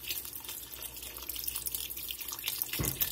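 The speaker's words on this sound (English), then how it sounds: "We're going to get some beef broth in. This 4 cups, 1 box." Beef broth pours from a 4-cup box into a pot of smoky chili, a steady close liquid stream with a brief heavier splash near the end and no talking.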